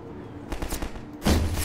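Gunfire in the video game Half-Life 2 comes as a couple of quick, sharp bursts of shots, close and punchy, within a very short span.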